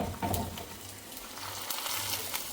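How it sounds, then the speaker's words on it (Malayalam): Shallots and curry leaves tempered in hot oil sizzle and crackle as they go into a Kerala sardine curry, a soft, steady frying hiss with light stirring and no talking. "ഇത് ചെറിയുള്ളിയും കറിവേപ്പിലയും കൂടിയുള്ള വറവാണ്, അതിട്ട് കൊടുക്കാം."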